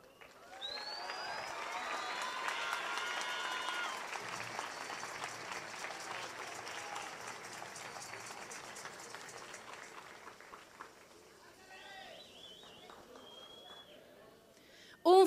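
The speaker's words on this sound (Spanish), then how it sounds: "Un fuerte aplauso para el director Luciano Aguilera Vázquez y el director Fernando Chapa Lara." An audience applauds at a ceremony of a national student sports event, broad sustained clapping mixed with scattered whistles and cheers that thins out toward the end, where a voice briefly breaks in.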